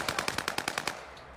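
Rapid bursts of automatic gunfire in an online multiplayer shooter game: about eight sharp, evenly spaced shots in quick succession, then a fading tail with no talking.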